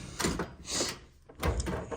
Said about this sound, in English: Next drawer is a sort of just a leftover drawer